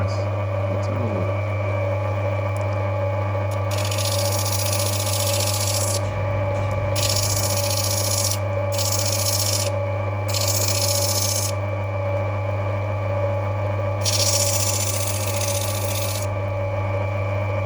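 Opal being sanded on a lapidary cutting machine, a steady motor hum with a constant tone underneath and bursts of bright rasping grit contact that come and go in uneven stretches, close and fairly loud.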